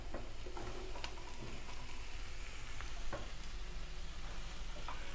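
Potato pieces frying with kasuri methi in a pan, a steady dense sizzle with faint scraping ticks throughout, no voices.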